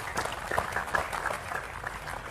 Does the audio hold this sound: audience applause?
yes